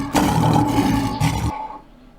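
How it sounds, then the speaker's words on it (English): A lion gives one loud, close, deep roar that lasts over a second, then breaks off and trails away into quiet. "lion"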